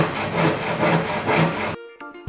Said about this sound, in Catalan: Doncs ara vaig a tallar la barra